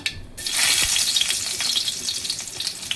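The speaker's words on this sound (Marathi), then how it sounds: "आता आपण यात टाकत आहोत लसणाच्या पाकळ्या" Garlic cloves drop into hot oil already seasoned with mustard seeds, cumin and fenugreek, setting off a sudden loud, bright sizzle that stays strong and crackling close by before easing slightly.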